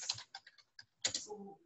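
Keys tapped on a computer keyboard while typing questions, a quick close run of clicks, a short pause, then another burst of tapping.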